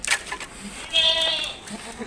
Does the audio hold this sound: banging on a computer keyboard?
no